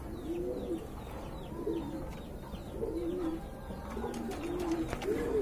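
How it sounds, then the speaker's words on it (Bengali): Three Jacobin pigeons, one almond tiger and two black, coo in low, repeated rolling phrases close by, with faint higher chirps in the background and no talking. "এখানে কিন্তু 3 পিস জ্যাকোবিন কবুতর রয়েছে"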